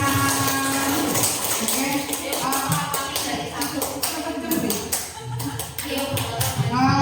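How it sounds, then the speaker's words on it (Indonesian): A group claps hands in a rhythmic pattern while voices chant a clapping song in Indonesian, the sharp claps landing in bursts over the steady sung rhythm. "Lima jari tangan, lima jari kiri, digabung jadi 10, jadi tepuk tangan"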